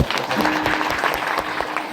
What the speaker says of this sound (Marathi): खरं जोरदार टाळ्या वाजवा